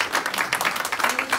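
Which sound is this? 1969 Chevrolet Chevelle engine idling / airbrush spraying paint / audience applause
audience applause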